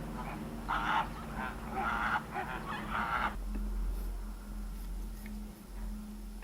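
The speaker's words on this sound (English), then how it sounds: "Flamingos." Flamingos at Ueno Zoo in Tokyo, a flock giving honking, goose-like calls in a few bursts over steady background hum, then fading into the ambient din.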